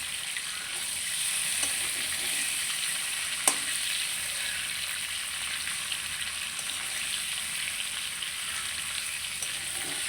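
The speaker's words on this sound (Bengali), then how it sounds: "ডিমটা একটু ভাজি করে নিলে মানে রান্না করলেও ভালো লাগে খাইতে" Egg frying slowly over gentle heat in a pan, a steady soft sizzle with faint crackles throughout and one brief sharper tap partway through.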